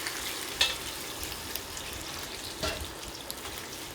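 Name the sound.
chicken wings simmering in braising soup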